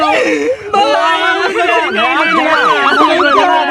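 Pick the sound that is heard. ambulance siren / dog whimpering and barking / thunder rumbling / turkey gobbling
ambulance siren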